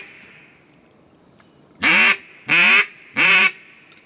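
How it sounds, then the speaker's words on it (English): Ducks quacking near water, three loud, close, nasal quacks evenly spaced about half a second apart after a quiet opening, with no talking. "You heard the ducks?"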